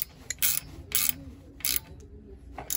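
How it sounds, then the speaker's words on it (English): A ratcheting wrench tightens a Webstone circulator flange on a steam boiler system, giving four close, crisp bursts of rapid pawl clicking separated by short pauses over a low background hum. "Now I'm using my roll ratcheting wrench here to tighten up the Webstone circulation flange"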